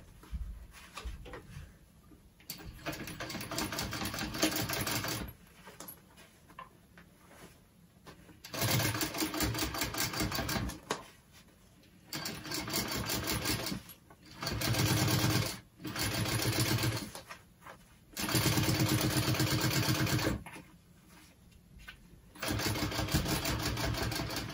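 A sewing machine runs a top stitch with an eighth-inch seam allowance on a convertible backpack, in repeated bursts of steady whirring with quiet gaps between them.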